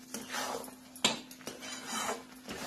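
A spoon scraping and knocking against a pan while stirring a thickening mixture, with soft irregular strokes and a few sharper clinks over a faint steady hum.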